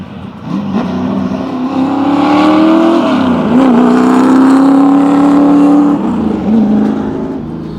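A 1966 Ford Mustang race car with a low, Boss 302-like engine note drives loudly nearby, its exhaust roaring and rising in pitch as it accelerates, then easing off and revving again.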